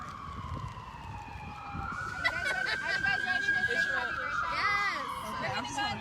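An emergency vehicle siren wails nearby in downtown Schenectady during an open mic and poetry event, its pitch rising and falling as it passes, while people talk over it.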